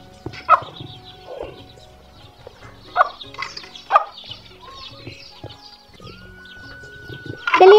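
A hen clucks and squawks in short bursts while hopping and jumping about, with scuffling between calls and a louder flurry at the end.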